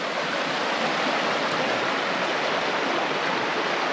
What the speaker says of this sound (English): All right, folks, this is Lost Creek.